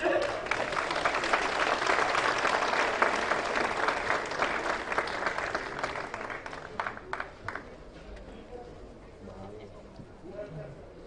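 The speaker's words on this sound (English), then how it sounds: "a better, huger, enthusiastic round of applause, please" A crowd claps at the inaugural ceremony of a 2025 software and electronics expo in India. The sustained applause rolls on strongly for several seconds, then thins out and fades toward a quieter room.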